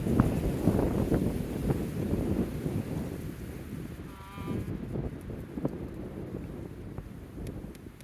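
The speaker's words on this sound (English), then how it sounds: "Honestly, I feel like the wind's gonna keep going regardless, so we're just gonna go for it." Steady wind blowing outdoors, a broad continuous rush with gusty low rumble buffeting the microphone, persisting for the whole stretch with brief quieter dips and no clear talk over it.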